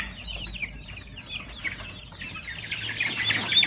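Chickens clucking and chattering together at close range, a busy flock of several birds sounding continuously with small rustles.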